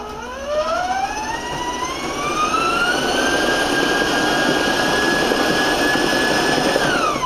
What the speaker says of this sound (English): with the mixer